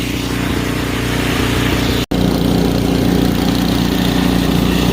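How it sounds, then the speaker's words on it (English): A snowblower engine runs steadily and loudly close by, a continuous buzzing drone with one very short cutout midway before it carries on unchanged. "I had to break out the snowblower."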